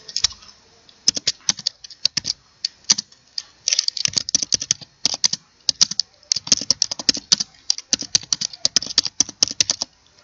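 Rapid, irregular clicking of keys on a computer keyboard, close and clear, in bursts with short pauses and no talking.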